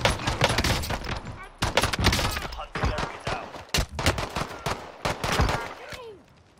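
Heavy gunfire in a Call of Duty Warzone match: rapid overlapping shots and bursts crack loudly and close for several seconds before trailing off, with a few sharper sniper-like reports in the mix.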